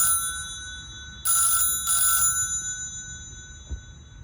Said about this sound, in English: Dylan, we have a phone call for you from one of our viewers.